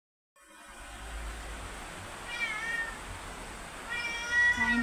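Pet cats meowing in a rural backyard, two drawn-out mews rising over a steady background hiss, moderately close, with no talking.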